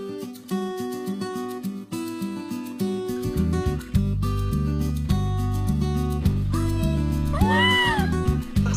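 A cat gives a short, rising-and-falling meow near the end, set against steady music playing throughout.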